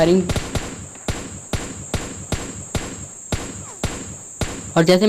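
Rapid gunfire in PUBG Lite, a steady run of about a dozen evenly spaced, sharp shots, with a faint electronic tone behind them and speech heard briefly at the start and end.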